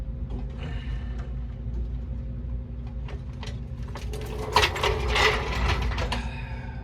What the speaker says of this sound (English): lower it, pull the jack out of the way